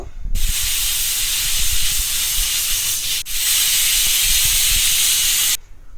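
A pressure cooker cooking mutton vents steam in a loud, close, continuous whistling hiss that breaks briefly once midway, then resumes before stopping abruptly.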